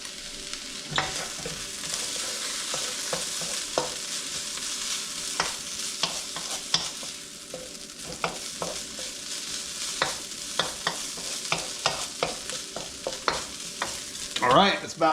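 Goulash bubbles in a pot on the stove, a steady close sizzling hiss broken by scattered small pops and clinks of stirring, with no talk.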